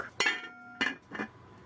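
A lid clinks onto a pot of Trinidad callaloo with crab, giving three brief metallic knocks spaced about half a second apart, close and fairly quiet.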